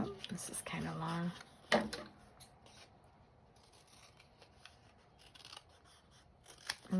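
Scissors snip paper to miter the corners of a folio, a few short close cuts and rustles early on followed by quieter handling noises, with a voice murmuring in the background.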